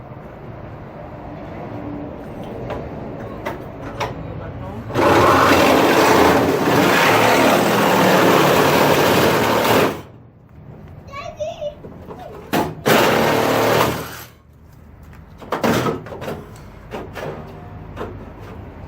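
A cutting tool chops through the metal frame of a cheap WRX-based drift kart in a garage, two long loud harsh bursts with shorter cuts after, clanks and a voice in the gaps.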